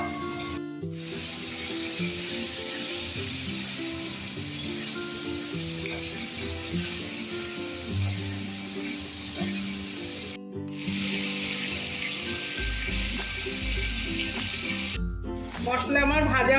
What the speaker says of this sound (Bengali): এখন আমি এই সমস্ত উপকরণ দিয়ে মশলাটা খুব ভালো করে কষিয়ে নেব।